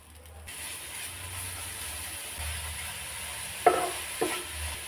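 Grated coconut and jaggery filling being stirred in a pan, a soft steady frying hiss with a couple of brief scraping knocks near the end, close and without voices.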